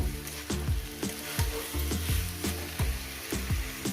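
Banana flower curry (mochar ghonto) fries in a pan with a steady close sizzle, broken by regular scraping stirs about twice a second.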